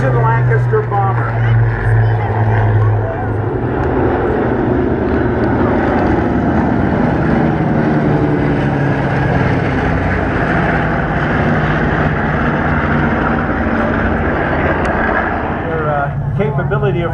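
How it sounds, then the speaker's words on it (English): A four-engine Avro Lancaster bomber flies past low and at a distance, its deep, steady propeller-engine drone filling the whole stretch as a loud, continuous rumble. "the 4-engine Lancaster bomber."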